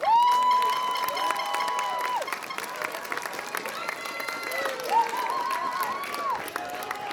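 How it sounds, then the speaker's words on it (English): Graduation audience applause mixed with cheers and shouts from a large crowd, clapping under loud whistles or horn-like tones across several seconds. "Give them a round of applause."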